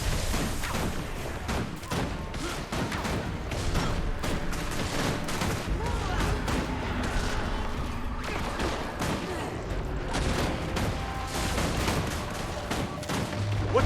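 An enemy fires on the player in the Guild Wars 2 video game, rapid sustained gunfire and bursts hammering away throughout, mixed with combat effects and music.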